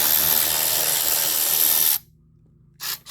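A power tool whirs continuously while backing out small Torx screws along the front of a Chevrolet Cruze during radiator replacement, loud and close, then stops abruptly before a brief second burst.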